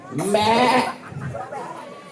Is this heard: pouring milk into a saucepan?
no